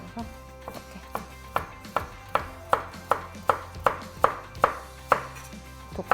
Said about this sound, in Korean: 이렇게 해서 반달 썰기 할 거라 이렇게 반 썰어서 이렇게